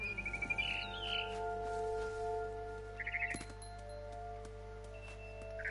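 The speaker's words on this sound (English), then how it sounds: "Then I heard chirping outside my window. It was a barn swallow going back to her nest." A barn swallow chirps outside a window in What Remains of Edith Finch, giving short bright twittering bursts near the start, again around the middle and once at the end, over a quiet background hum.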